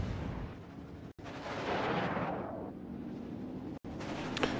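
Warship guns firing in World of Warships, heavy booming salvos and rumbling blasts that run on continuously, loud and close, with no speech.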